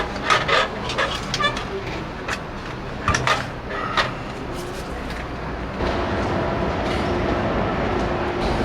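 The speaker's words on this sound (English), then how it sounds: "We're on the train now, trying to figure out our way around." Rumbling train interior in the Netherlands with rattling wheels on track and occasional clunks and knocks, a steady rolling drone building toward the end.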